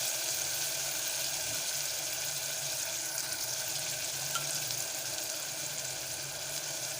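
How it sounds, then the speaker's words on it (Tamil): Ginger garlic paste frying for a hotel-style chicken curry, a steady, close, fairly quiet sizzle with a wet, hissing texture that carries on evenly throughout. "இப்போ இஞ்சி பூண்டு சேர்த்துடலாம்."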